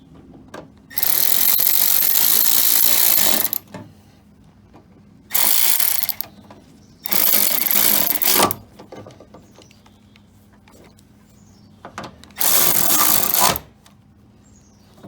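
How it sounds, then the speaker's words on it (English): A hand ratchet tightens the bolts on a minivan sliding door in four bursts of rapid clicking, each lasting one to three seconds, loud and close, with quiet pauses between. "And now I'll get my ratchet in this case"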